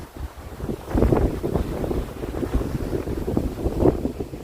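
Strong wind gusting on an open grassy hillside near wind turbines, roaring and buffeting the microphone in heavy continuous rushes with no voices.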